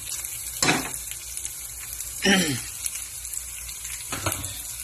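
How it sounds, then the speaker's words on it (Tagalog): Pieces of squash go into a frying pan for sautéed vegetables, setting off three separate bursts of sizzling over a low background hiss. "Lalagay na natin yung ating gulay guys. Lagyan natin yung ating kalabasa."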